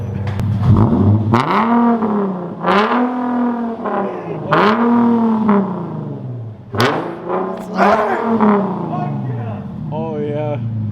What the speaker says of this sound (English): rev the car, rev it. Rev it, give us some revs